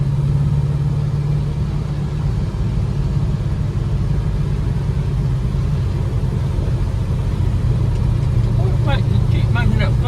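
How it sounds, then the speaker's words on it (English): A 1967 Chevelle SS 396 four-speed drives along with a steady, loud engine rumble and road noise, and a loose tailpipe adds a rattle. Near the end, a few brief sharp clicks sound over the drone. "I think your tailpipe's loose and it's rattling back there"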